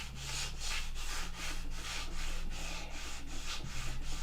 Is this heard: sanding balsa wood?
yes